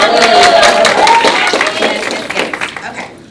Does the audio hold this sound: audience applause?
yes